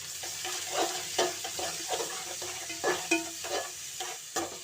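Onions frying in oil in a pan after whole spices such as cloves and stone flower, for a black chickpea curry; a steady soft sizzle with repeated louder stirring scrapes, close by, no talking.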